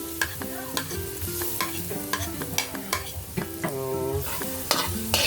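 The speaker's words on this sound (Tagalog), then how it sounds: "Igigisa na natin yung bawang." Garlic sautéing in hot oil in a frying pan, sizzling steadily with repeated clinks and scrapes of a spatula stirring, up close, with faint background music and no speech.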